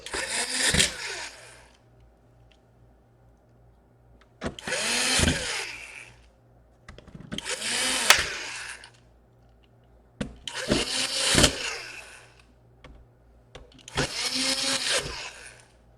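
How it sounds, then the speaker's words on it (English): An electric screwdriver drives screws into an MSI GF63 thin laptop case in five separate whirring bursts of about a second each, close and fairly loud, with quiet pauses between them. "now we got a whole bunch of screws we want to screw in"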